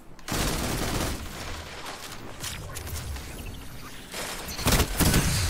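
Rapid gunfire in a Destiny 2 Trials of Osiris match, dense bursts of shots that run almost continuously, with a short lull before heavier fire resumes near the end.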